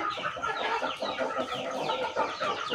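A group of chickens cluck and murmur continuously in a dense, overlapping chatter, fairly close and steady in level, with a few sharper calls standing out over the flock.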